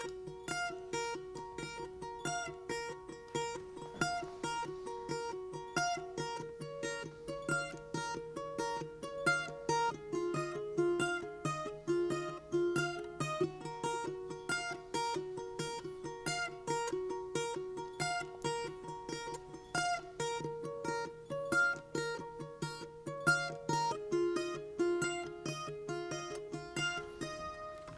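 Children's guitar recorded through a $100 microphone, several edited takes joined into one continuous strummed and picked passage, steady and close with a faint background hiss, no talking.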